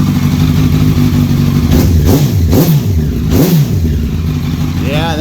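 A 2006 Honda CBR1000RR superbike engine at close range, idling loud and steady, then blipped up and down in three quick revs with a deep, guttural tone; someone talks briefly near the end.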